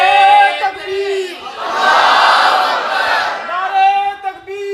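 A large religious gathering roars a loud, sustained collective Allahu Akbar in answer to a Takbir call, the swelling crowd shout flanked by a lone amplified chanting voice before and after.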